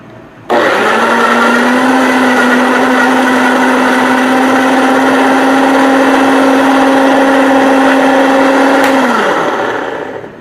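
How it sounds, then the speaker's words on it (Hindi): Kitchen blender grinds chopped tomatoes into paste while cooking achar gosht, a loud steady motor whine that starts abruptly, holds constant for about eight seconds, then winds down. "टमाटर मैंने काट के ब्लेंडर के अंदर डाल दिया। अब हम इसको ग्राइंड करेंगे।"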